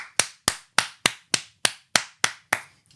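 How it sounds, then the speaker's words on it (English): Loud hand clapping meant to sound like someone at the back, nine strong claps at a moderate steady pace with a brief ringing decay after each, heard alone. "Someone clapping from the back,"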